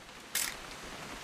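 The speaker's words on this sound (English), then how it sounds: "Just want to get a shot of you, Dawn, then we can take off." Camera shutter firing once in a video game, a single sharp mechanical click near the start that decays quickly over a faint steady background.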